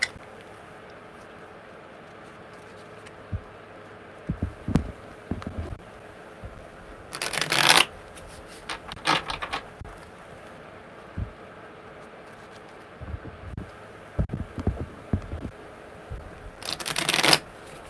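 Tarot cards are shuffled in several quick riffling bursts, separated by soft taps and handling sounds, close up and fairly quiet.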